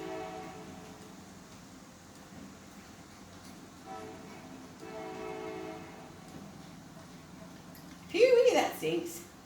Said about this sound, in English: Got a train going by.